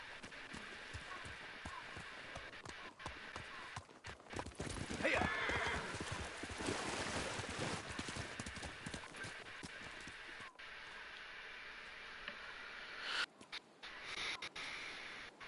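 Horse riding in a PS4 video game, with steady hoof clip-clops and a neigh over continuous game ambience, while someone talks over it at times.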